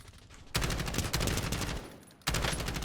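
Sustained rapid gunfire from a battle royale video game match, loud dense bursts of automatic fire rolling continuously with brief dips, no talking.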